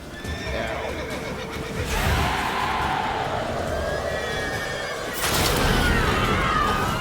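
Geralt's horse Roach from The Witcher 3 neighs and whinnies loudly amid game ambience, with hoof clip-clops and a second burst of whinnying near the end.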